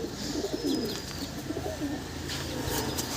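Soft, low cooing of Andhra Madrasi pigeons close by at a pigeon sale in Nadia, repeating over a noisy background with faint chirps.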